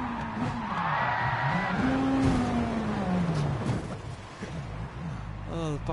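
A Volkswagen Beetle race car engine in the video game Gran Turismo Sport revs and climbs through the gears, roaring loudly with rising and falling pitch and a few sharp pops near the end.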